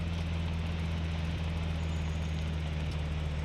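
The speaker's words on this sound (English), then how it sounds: "Dude, that tractor sounds terrible." A tractor engine runs steadily in the SCUM survival game, a continuous low droning rumble with a strong hum, heard at a distance and without any talk over it.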